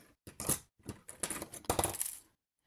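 Copper wire cut roughly in half with cutters while making a Celtic or Viking style penannular brooch, giving a few sharp metallic snips and clinks close by, with no voices.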